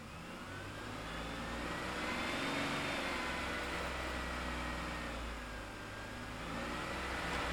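Car engine held steady at about 2,000 RPM during a battery tachometer test, a continuous even drone with a faint whine that rises slightly midway, close and steady, no talking.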